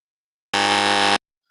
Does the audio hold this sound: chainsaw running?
no